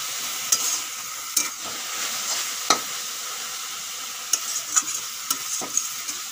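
Radish greens with dried shrimp fry Bengali style in a pan. A steady, bright sizzle runs throughout, broken by several sharp scrapes and clinks as the greens are stirred.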